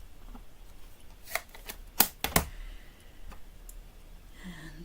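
White cardstock being trimmed close by, giving a few sharp, crisp cutting clicks spaced over a couple of seconds against a quiet background, with no talking.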